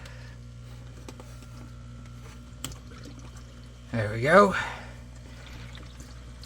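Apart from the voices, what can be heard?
water rushing into turtle tank canister filter after opening valves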